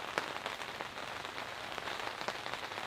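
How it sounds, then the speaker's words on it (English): Rain patters steadily on a large tent, a soft, close hiss broken by a few sharper drops. "While it's not raining terribly hard outside, it is enough to soak this tent."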